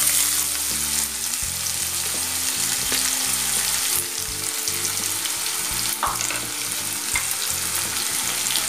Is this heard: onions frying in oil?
yes